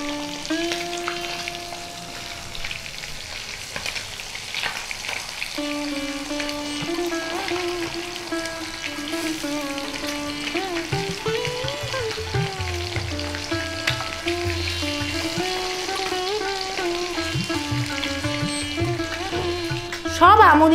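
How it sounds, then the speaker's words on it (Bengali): Amudi fish fry in hot mustard oil with a continuous crackling sizzle, the spatter shifting as pieces go in, all beneath a melodic background layer and ending in a sudden louder burst. "এক এক করে আমুদি মাছগুলো ভাজার জন্য ছেড়ে দেবো।"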